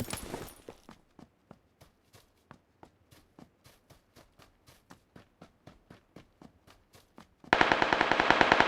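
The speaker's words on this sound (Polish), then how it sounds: "O, jak strzelają wariaty" Gunfire in PUBG Lite, heard as a burst at the start and then a long run of evenly spaced single shots, each sharp and moderately loud, before a dense loud burst of rapid fire at the end.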